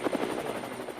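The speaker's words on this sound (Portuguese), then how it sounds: "o presidente Jair Bolsonaro sobrevoou por 1 hora de helicóptero 6 cidades da região metropolitana de Belo Horizonte" A helicopter flies steadily overhead with a continuous rotor drone, loud and close, in the Belo Horizonte metropolitan region in Brazil after flood damage from heavy rains.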